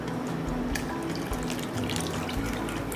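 Milk poured into a cooking pot of rice for chicken dum biryani, a steady liquid splashing and trickling with faint clinks of the pot, continuous and close, without speech.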